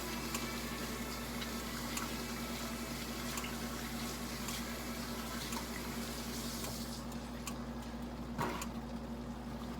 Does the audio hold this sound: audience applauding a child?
no